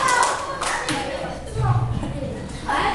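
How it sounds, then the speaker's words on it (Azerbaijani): A few short bursts of hand clapping greet the winner of a children's geography quiz game in a classroom, mixed in with voices talking throughout. "Alqışlayaq Məhəmmədi."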